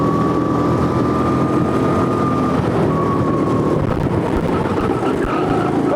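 Two-stroke go-kart engine held at full throttle, a loud, buzzing high-revving whine climbing slightly in pitch, continuous and close throughout with no talk.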